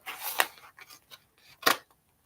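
Several crisp scissor snips, two of them louder, spaced irregularly with quiet gaps between, close by and with no talking.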